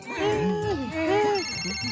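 A telephone rings with two electronic ring bursts in quick succession, clear and close in an indoor scene.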